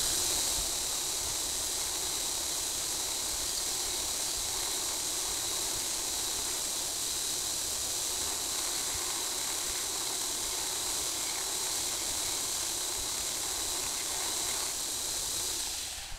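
Belt grinder running at 400 grit, sanding the bevel of a knife blade: a steady, loud abrasive hiss with a motor drone underneath, continuous for the whole stretch without pause or talk.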